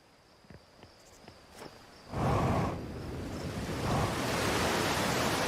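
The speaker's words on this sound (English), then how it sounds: "This waterfall is loud!" A loud, steady rush of a video game waterfall surges in after a few soft footsteps, filling the space with dense broadband roar.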